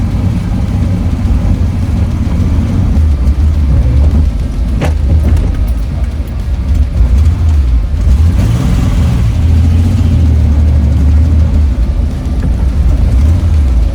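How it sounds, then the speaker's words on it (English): A Reliant Scimitar's engine runs with a misfire, a loud steady low rumble that stays close and constant, with an uneven rise in revs partway through and no talking. "There's obviously a definite misfire going on there."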